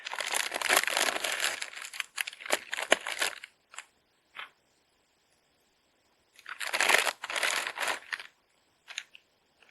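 Crinkly thin plastic packaging of a Ratlami papdi Indian snack is torn open up close, giving two bursts of loud crackling and rustling separated by a quiet pause, plus a few short isolated crinkles.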